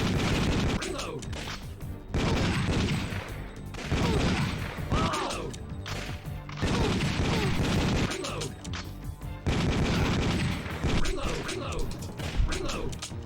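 Arcade light-gun gunfire in Time Crisis comes in dense clattering bursts separated by short pauses, loud and mechanical, with excited shouting mixed in.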